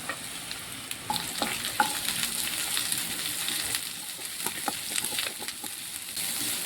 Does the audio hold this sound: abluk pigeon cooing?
no